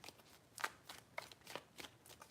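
A deck of cards being shuffled, several quick riffling bursts in a quiet room with short pauses between them.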